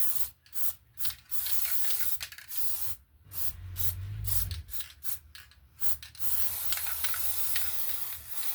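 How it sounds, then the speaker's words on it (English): Spray glue hisses from an aerosol can in a run of short bursts and longer steady sprays, close and fairly loud, with a low rumbling handling noise midway and no talking. "And that spray glue worked really well,"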